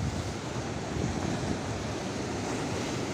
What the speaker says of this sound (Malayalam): പക്ഷേ ഇപ്പോൾ കടൽ ശരിക്കും കൂടിയിരിക്കുകയാണ്.